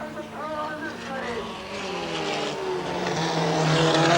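VW hot rod race cars roar past at a 1984 All Ireland hot rod race, their engine notes sweeping in pitch as they pass and the roar swelling louder toward the end, while a commentator talks over them.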